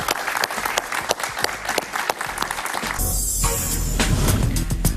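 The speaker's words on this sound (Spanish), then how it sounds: "Un aplauso para él." Studio audience applause on a talk show, brisk clapping from a small crowd that turns into a denser, hissing wash of clapping partway through.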